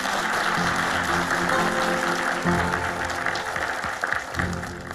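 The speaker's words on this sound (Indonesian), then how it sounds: "Tepuk tangan dulu dong, ibu-ibu." A group of women clapping together, a continuous, moderately loud wash of applause with faint background sounds mixed in.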